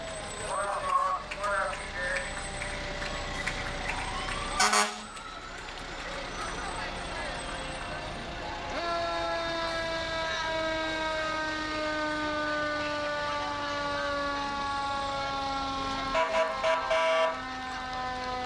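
Ralston Fire Department fire trucks roll past in an Independence Day parade, sirens wailing in long rising and falling tones with a blast of the horn and an engine rumble, while a commentator talks over the scene.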